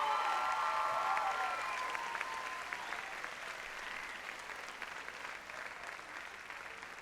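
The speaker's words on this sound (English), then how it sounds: "a round of applause for that last group." Audience applause at a high school graduation ceremony, clapping from a large hall that starts fairly strong and gradually thins and fades over several seconds, with no talking.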